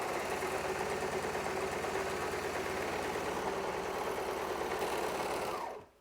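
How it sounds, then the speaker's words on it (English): A serger stitches and trims the end of a fabric piece with a fast, even mechanical whir that runs steadily and then stops abruptly at the end. "So thankfully the serger is going to trim up this end."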